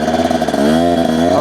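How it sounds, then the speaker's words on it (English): A two-stroke dirt bike engine warms up to operating temperature, idling with a rough, buzzy note and then rising steadily in pitch as it is revved a little, loud and close. "this is just bringing the bike up to operating temperature"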